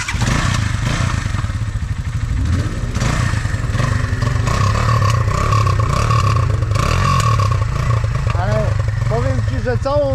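A Junak motorcycle engine runs nearby with a steady throbbing rumble and some rattle and clatter, joined by voices talking over it.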